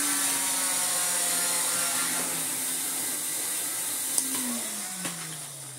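A Miele S424i vacuum cleaner with its floor head pushed over a rug, its rubber strip dragging, gives a steady close whining motor drone whose pitch dips slightly near the end, with a couple of small knocks.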